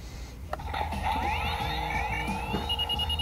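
A Batman toy car from The Batman line plays electronic sound effects, rising and sweeping synthetic tones with chirps over a steady hum in a store aisle, fairly loud and continuous, with no talking.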